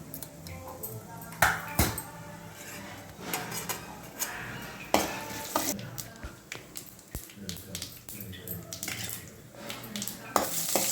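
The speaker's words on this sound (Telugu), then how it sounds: "ఇదిగోండి పచ్చిశనగపప్పు తాలింపు వేసుకోవాలి" Chana dal, urad dal, mustard seeds and cumin sizzle in hot oil in a pan as tempering for Andhra gongura pulusu, with crackling pops, a ladle stirring and clinking against the metal throughout.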